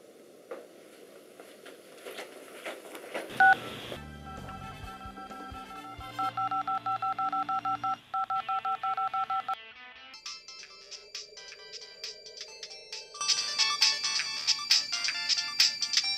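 Telephone touch-tone dialing with a rapid run of DTMF beeps, followed by electronic ringback and ringtone tones, clear and close with no voices.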